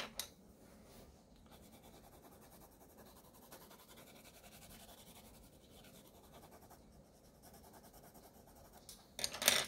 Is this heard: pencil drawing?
yes